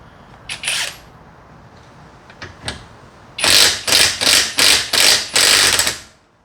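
An OUHOUG 21V cordless impact wrench takes off a nut, with a few light clicks and handling sounds first, then six loud, close bursts of rapid hammering with short gaps between them.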